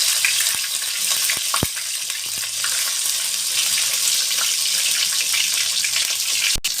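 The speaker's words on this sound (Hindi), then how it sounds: "इसमें हाफ टी स्पून लहसुन अदरक का पेस्ट शामिल करेंगे और इसको जो है वो फ्राई कर लेंगे।" Garlic ginger paste fries in hot oil with a continuous bright, hissing sizzle and crackle, punctuated by a few sharp clinks of a utensil against the pan.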